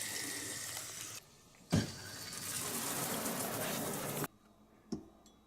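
Water running from faucets opened around a house to drain the supply lines, a steady rushing hiss broken by brief pauses and a couple of sharp knocks.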